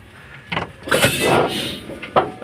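An engine cranks and catches, then revs up briefly before settling, with a short sharp burst near the end.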